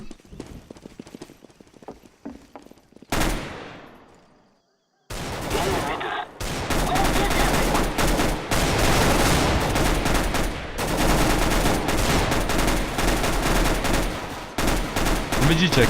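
Gunfire in Counter-Strike: Global Offensive starts with scattered sharp shots and a brief silent gap, then becomes dense, sustained automatic bursts that stay loud and close for the rest of the clip.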